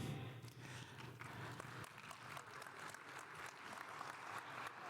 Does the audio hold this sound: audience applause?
yes